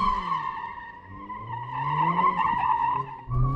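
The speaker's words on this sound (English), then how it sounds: "you actually turn more into the corner to make it skid" Mercedes-AMG A45 S drifting through a corner, its tires letting out a loud, sustained squeal that wavers in pitch for several seconds over the engine's drone, then briefly cuts off and resumes.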